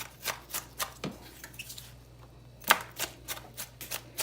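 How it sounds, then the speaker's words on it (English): A knife chops a little onion on a cutting board for seasoning cabbage, in quick crisp strokes in short bursts with a pause midway and one sharp knock, close and fairly quiet. "going to cut up a little onion"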